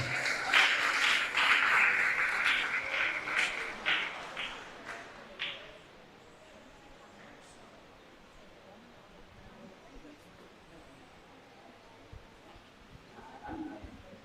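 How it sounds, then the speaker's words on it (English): Audience applause at a school valedictory ceremony rises loudly for several seconds, then thins to a quiet room with faint murmurs and a brief spatter of claps near the end. "Round of applause as they come."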